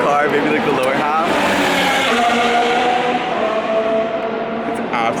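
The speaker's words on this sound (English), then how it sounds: "Those are the cars racing." Formula 1 cars racing past on the street circuit at Monaco, a loud high-pitched engine scream sweeping by with shifting whine and echoing off surroundings, continuous over several seconds.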